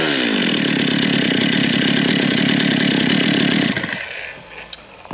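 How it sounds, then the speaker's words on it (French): A repaired chainsaw with a carburettor fault runs at a loud, steady high-revving drone for several seconds, then cuts back to a rough idle and sputters as the engine drops off. "Et là, la tronçonneuse est prête pour pouvoir les tronçonner."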